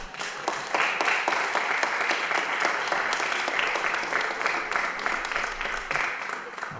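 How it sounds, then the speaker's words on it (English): Applause fills a school committee meeting room, a continuous, even round of many hands clapping at moderate volume, crisp individual claps audible throughout the crowd. "2 rounds of applause."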